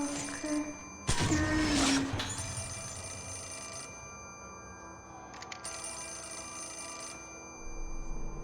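Telephone ringing in the survival horror game Fatal Frame: Mask of the Lunar Eclipse, a few separate ring bursts over a low eerie ambient hum, fairly clear and with no talk.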